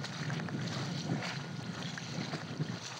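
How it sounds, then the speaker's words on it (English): Melting, fragmented sea ice floats on open water in Admiralty Inlet near Arctic Bay, giving a faint, steady crackling and fizzing hiss with soft water sounds and some wind, and no voices. "I wanted to record for you some of the sounds you hear when you're listening to ice on the water"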